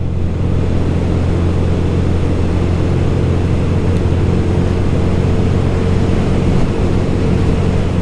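A Royal Enfield Guerrilla 450 motorcycle climbs a hill in fourth gear carrying a pillion, its engine a steady low drone with wind rush, loud and continuous with no talk.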